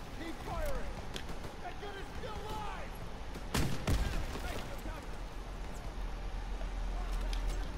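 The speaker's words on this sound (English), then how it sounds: "I'm cover firing all I can" Covering gunfire in the Call of Duty WWII campaign rattles in irregular bursts over a steady battle din, with a louder cluster of shots near the middle and a voice talking over the action.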